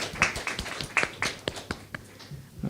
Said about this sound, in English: So you can give them a round of applause.